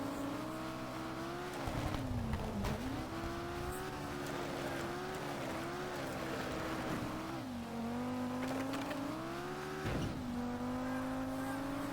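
A race car in Sega Rally Revo drones steadily and loudly for the whole stretch, its engine pitch climbing and dipping with each gear change and a couple of sharp dips as the car brakes and accelerates again.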